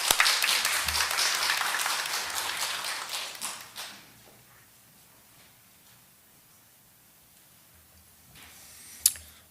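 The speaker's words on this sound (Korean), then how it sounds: "우리 박수로 환영하겠습니다" Church congregation claps to welcome the pastor to the pulpit at a Sunday service, a loud burst of massed applause that thins out and stops after about four seconds, leaving a quiet room.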